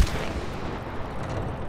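Gunfire in a shooting video game, a dense continuous burst of rapid shots filling the short stretch at steady, fairly loud level.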